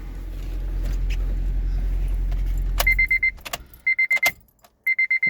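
A 2011 Honda Civic with a P0354 ignition coil fault and a shaking engine idles with a steady low rumble for about three seconds, then cuts off, followed by several bursts of repeated electronic chime beeps.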